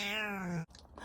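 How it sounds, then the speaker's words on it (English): A domestic cat lets out a single drawn-out meow that falls in pitch, close and clear, then cuts off into brief faint rustling. "That's my cat."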